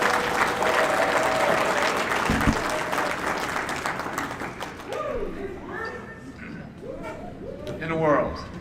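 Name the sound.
audience applause for speaker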